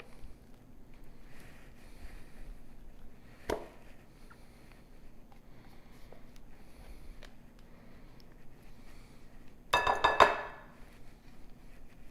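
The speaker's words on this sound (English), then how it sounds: "We're going to put it in a big glass bowl." A 32-ounce container of ricotta goes into a big glass bowl in a home kitchen: a faint clink, then a short clatter and scrape near the end, otherwise quiet.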